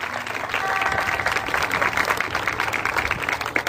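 A church congregation applauds, dense clapping sustained throughout the short stretch.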